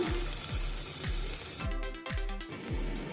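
Onions and green chillies sauté in hot oil with salt in a pan, giving a loud continuous sizzle broken by regular thumping stirs, close and without talk.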